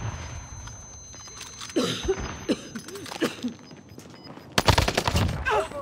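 Video game combat with rapid bursts of gunfire and sharp explosive blasts from grenades, several close shots clustered together and a heavy burst near the end over a low game ambience.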